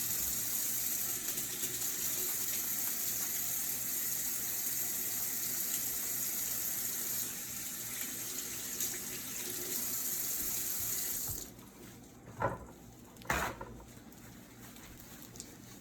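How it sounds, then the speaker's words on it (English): Water runs steadily from a tap into a sink as hands are washed under it. The flow is continuous and fairly loud, then cuts off near the end, leaving a few brief splashes and drips. "the first thing I'm going to do first is wash my hands"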